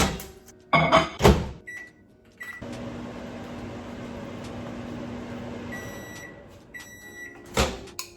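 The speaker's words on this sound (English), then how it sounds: "then we're gonna put it in the microwave" A microwave oven hums steadily for several seconds, bracketed by clunks of the door and button beeps, ending with a sharp beep and clatter.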